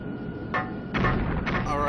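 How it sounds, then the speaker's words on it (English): Several sharp video game explosions, including a helicopter, burst in quick succession in expert mode, loud and close, with a brief hiss trailing each blast. "the explosions are a little bit faster in expert mode"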